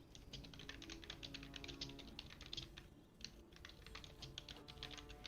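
Fast, steady typing on a computer keyboard, a dense run of close clicking keystrokes with a brief pause midway, no talking.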